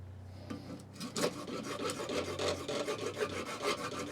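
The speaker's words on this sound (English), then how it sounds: "now I need to start shaping the handle, which I'll just do with a rasp basically." A rasp files and shapes an HDPE handle on a D-guard short sword cutlass, making steady rhythmic rubbing strokes, close and alone.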